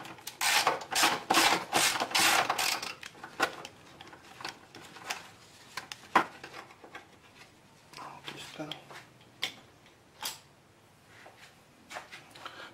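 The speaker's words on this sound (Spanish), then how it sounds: "Voy a cepillar toda esta área para que no haya nada de pintura" Wire brush scrubbing paint off a car's metal chassis near the battery, a rapid run of loud rasping strokes at first, then scattered lighter scrapes and taps, close by.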